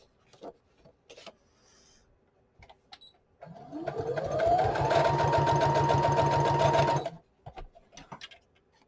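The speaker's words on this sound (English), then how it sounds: "I'm just going to stitch it on right across the top of this page." A sewing machine runs for about four seconds stitching across the top of a junk journal page, a fast, close mechanical whir with rapid needle chatter, framed by quieter handling taps before and after.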